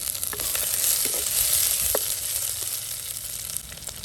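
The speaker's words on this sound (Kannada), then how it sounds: "4 ಹಸಿಮೆಣಸಿನಕಾಯಿ ಉದ್ದಕ್ಕೆ ಕಟ್ ಮಾಡಿ ಹಾಕ್ತಾ ಇದ್ದೀನಿ" Slit green chillies sizzle in a pan with softening onion, a loud, continuous hiss with faint stirring clicks and no talking.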